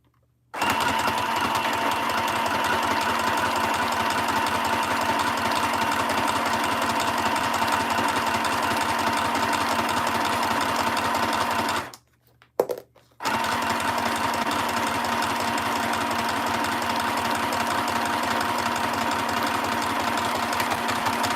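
Sewing machine stitching down the middle of a craft piece, a steady, continuous mechanical whir with a rapid needle rhythm running loud and close for about twelve seconds, stopping briefly, then resuming just as steadily.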